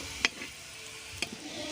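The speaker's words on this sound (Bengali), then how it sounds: "এই পিঠটা সুন্দর করে ভেজে নেব" A paratha of flour dough frying in a pan with a steady, fairly soft sizzle, punctuated by two brief utensil clicks against the pan.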